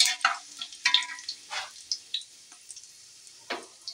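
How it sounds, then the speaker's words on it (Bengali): Spices frying in oil in a pan for chicken biryani, giving close, intermittent sizzles and crackles with brief stirring scrapes, fairly quiet and alone with no talk. "মশলা ভাজা হয়ে আসবে, মশলার একটা সেন্ট উঠে আসবে, তখনই জানবো মশলা ভাজা হয়ে গেছে।"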